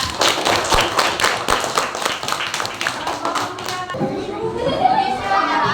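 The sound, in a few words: children clapping hands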